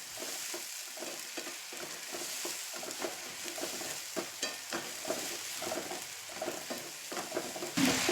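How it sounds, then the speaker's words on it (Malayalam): Masala paste sautés in a pan over a medium flame, giving a continuous close sizzle broken by repeated scraping stirs, with no voices. "ഇനി ഇതും മീഡിയം ഫ്ലെയിമിലിട്ടിട്ട് ഒന്ന് കുറച്ചേരം ഒന്ന് വഴറ്റി കൊടുക്കുന്നുണ്ട്"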